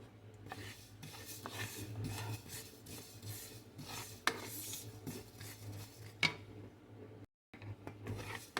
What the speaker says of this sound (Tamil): நான் கருப்பு எள்ளு வச்சுருக்கேன் இது ரோஸ்டட் தான் இருந்தாலும் லைட்டாக ரோஸ்ட் பண்ணிக்கலாம்